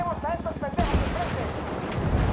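Artillery fire support barrage in Ghost Recon Wildlands: a sudden heavy blast cuts in after a brief radio voice, followed by rumbling, crackling explosion noise that continues to the end.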